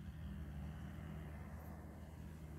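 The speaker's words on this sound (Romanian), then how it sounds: "Ah, și totuși se aude aproape șoseaua." Distant road traffic near an orchard in the countryside, a steady low rumble of cars passing far off with no voices.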